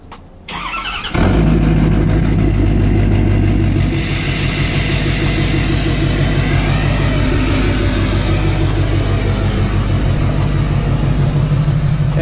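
A truck engine roars up loudly after a brief start-up, then holds a steady, close, continuous drone with a rhythmic pulsing throb while driving, with no talking.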